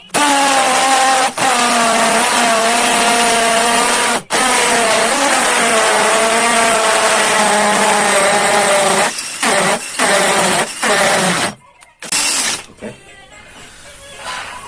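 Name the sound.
impact drill drilling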